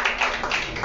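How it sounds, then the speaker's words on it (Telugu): A church congregation claps together during a Telugu sermon, a short dense burst of many hands at fairly low volume with no talk over it. "గట్టిగా చప్పట్లు కొట్టి దేవుని నామమున మహిమపడతాం"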